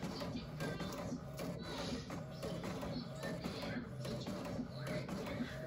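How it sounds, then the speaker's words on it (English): Regular inkjet printer printing labels, giving off a steady, soft mechanical whir with light ticking and clicking throughout, at moderate distance and alone without talk. "this is just a regular inkjet printer, not a laser jet."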